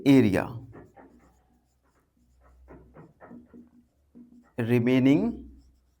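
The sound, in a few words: pen writing math solution on paper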